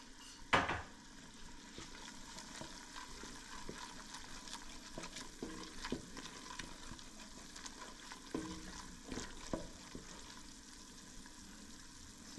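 Blended ginger and garlic sputter and fry in a pot for Nigerian jollof rice, a low continuous sizzle with scattered pops and occasional knocks of utensils against the pot.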